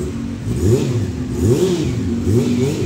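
Motorcycle with an aftermarket exhaust pipe revving, its engine note rising and falling in repeated throttle blips over a steady rumble, loud and close, no talk.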